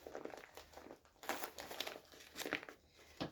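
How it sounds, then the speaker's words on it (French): Bubble wrap crinkling and crunching as it is handled while unwrapping an advent calendar item, irregular soft bursts of crackle and rustle close by, fairly quiet overall. "il doit y avoir du papier bulle"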